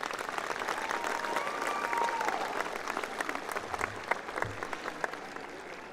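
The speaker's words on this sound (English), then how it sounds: "So make sure you give your families a round of applause right now." Applause at a high school graduation ceremony for the graduates' families, a crowd clapping strongly at first, then thinning into scattered claps and tapering off.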